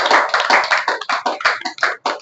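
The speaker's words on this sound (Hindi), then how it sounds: "आपके बीच जोरदार तालियां।" Loud applause from a live audience at a Hindi poetry gathering, a dense crackle of close clapping in quick surges that fades briefly near the end.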